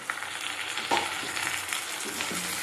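Chicken stir-frying in a pan for coconut-milk chicken malai curry, with meat broth just added, giving a soft close sizzle and a few scraping stirs of a spoon.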